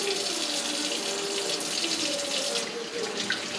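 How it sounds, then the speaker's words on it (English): Tap water runs steadily into a sink as black powder revolver parts are rinsed, a continuous close splashing rush that stays alone without voices. "Rinse it all off good."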